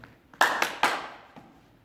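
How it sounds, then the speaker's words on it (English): Three quick, sharp hand claps close up during a primary-school PE ball-catching drill, followed by a softer tap as the ball is caught, in a quiet room. "See if I can get 3 claps in this time."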